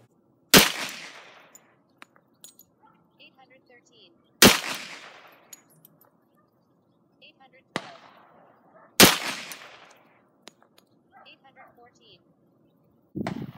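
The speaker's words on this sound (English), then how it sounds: "Well, it's only 7 yards, but for 46 shots, not too shabby." ATI 1911 pistol fired at an outdoor range, four loud sharp reports spaced a few seconds apart with a fifth at the end, each with a short ringing decay and faint clatter between.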